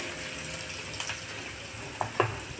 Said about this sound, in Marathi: कमी गॅसवर हे 1 मिनिटासाठी आपण फ्राय करून घेतोय